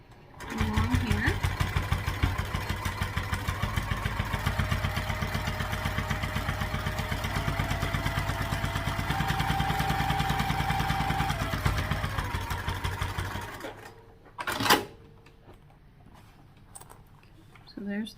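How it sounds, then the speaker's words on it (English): A sewing machine top stitches a crossbody bag, running in a steady fast mechanical rhythm close up for about thirteen seconds, then stopping; a voice talks briefly afterward. "choose that place on your foot there, and we'll top stitch along here"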